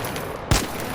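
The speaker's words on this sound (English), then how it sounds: "So we're going to test it with a high recoil shotgun." A single loud, close blast from the Volcano high-recoil shotgun in the ARC Raiders video game, a sharp report with a short decaying tail.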